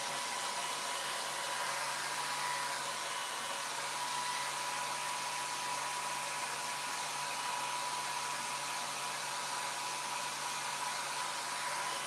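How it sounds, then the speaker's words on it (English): A hair dryer runs continuously with a steady airy blast and a thin constant whine, fairly quiet and unchanging, with no talking. "Let me get my hair dryer."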